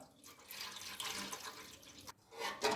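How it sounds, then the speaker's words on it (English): Coconut water pours and splashes into a pot in uneven bursts, fairly close, lasting a few seconds with brief pauses. "I pour in my coconut water"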